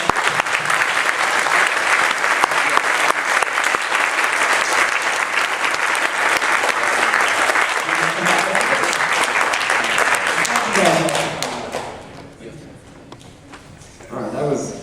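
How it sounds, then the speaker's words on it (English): An audience applauds loudly after a keynote fireside chat at a tech event, dense sustained clapping for about eleven seconds that fades out, followed by someone speaking. "How about a big round of applause?"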